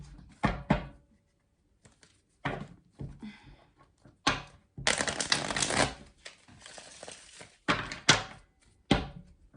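Tarot cards being gathered back into the deck and shuffled, a series of sharp riffling bursts and soft taps separated by short quiet gaps, close and fairly loud, no talk.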